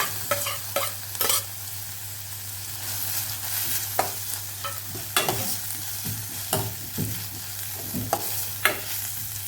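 Finely chopped tomato sautés in hot oil for a stuffed brinjal dish: a continuous soft sizzle broken by sharp, irregular stirring scrapes of a spoon against the pan, with a low steady hum underneath.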